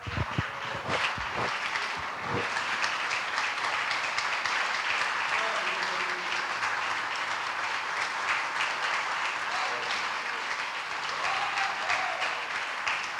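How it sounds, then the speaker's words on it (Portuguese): A church congregation claps during a morning thanksgiving service, a continuous crowded wash of applause lasting over ten seconds, opening with a few sharp louder claps, with voices and singing faintly audible underneath. "E as palmas é para Ele."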